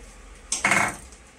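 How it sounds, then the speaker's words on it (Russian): A knife cuts through a lemon into thin rings on a kitchen board, giving one short close-up slicing scrape, a brief rasping sound that fades quickly to quiet. "Нарезаем лимончик тонкими колечками."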